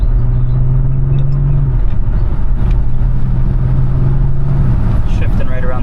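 A sleeper SUV engine pulls in a steady mid-level drone, its pitch stepping down twice as it shifts gears, with a voice talking over it throughout.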